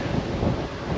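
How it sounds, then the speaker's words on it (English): Wind buffets the microphone in a continuous low rumble, loud and close, with no voices. "it's really windy"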